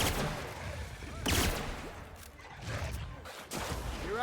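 Gunfire rattles in bursts through a sci-fi shooter firefight in The Outer Worlds, loud and close with sharp broadband cracks, while game voices talk over the shots.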